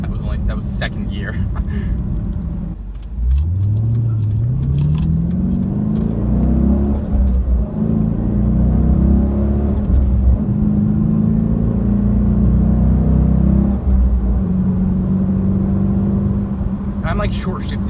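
A Dodge Challenger SRT engine revs while accelerating through second gear and is short-shifted before 4,000 RPM. The loud, close exhaust drone rises steadily in pitch, then holds a sustained rumble for most of the run.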